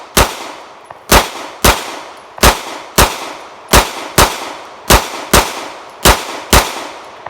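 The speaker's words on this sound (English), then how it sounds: "I'm going to shoot a group into this head box" A group of gunshots is fired at a head box target, about a dozen loud, sharp cracks at a fairly even pace of roughly one per half second, each ringing briefly, close and with no talking.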